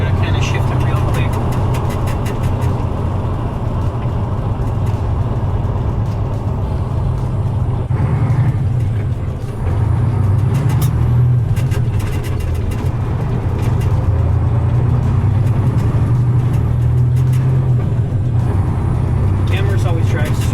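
A loud, steady engine of a 2009 Kenworth T800 semi truck drones throughout, with brief dips and surges in pitch as gears change quickly, under occasional talk.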